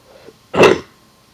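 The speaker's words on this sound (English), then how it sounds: "I just had a really big cough there." A single big, harsh cough bursts out close to the microphone, short and loud against a quiet background.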